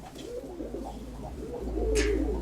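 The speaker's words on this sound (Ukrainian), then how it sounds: "Вовчуковская голубка Юры Вовчука" A ringed female pigeon coos softly in a loft, a few low, rolling calls close by, with a brief higher chirp near the end.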